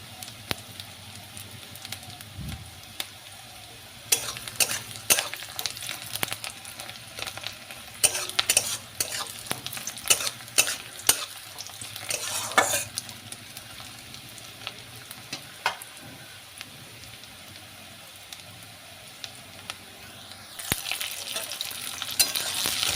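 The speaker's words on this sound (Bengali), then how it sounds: "আদা আর রসুন আর গোলমরিচ আছে চারটে বেটে রেখেছি ওটা দিয়ে একটু ভালো করে ভেজে নেব" Ground ginger, garlic and black pepper paste frying in a pan, a soft steady sizzle broken by repeated spoon scrapes and stirring clatters, close and without voices.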